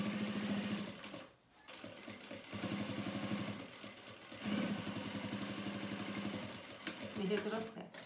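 A sewing machine backstitches a lining seam in a steady, close, rapid whirring run. It stops briefly, then resumes at the same even pace.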